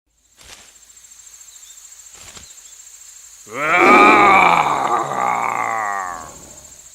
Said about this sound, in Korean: 무시무시한 짐승의 울음소리가 들렸어